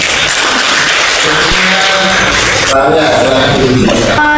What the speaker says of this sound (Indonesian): kita beri aplaus untuk Mas Hasan